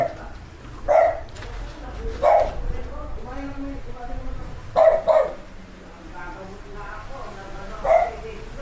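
A dog barks a few times at intervals, moderately loud, while people talk in the background throughout.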